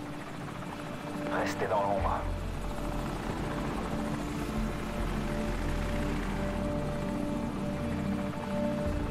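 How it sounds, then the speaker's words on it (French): Enemy helicopter passing overhead in the PC shooter Call of Duty 4: Modern Warfare, a steady low rotor drone running throughout beneath game effects, with a brief voice line near the start. "Hélicoptère ennemi, baissez-vous."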